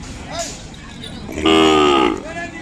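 An Ongole cow at a Sunday market in Kodada gives one loud, drawn-out moo close by, lasting about half a second, with quieter lowing sounds before and after.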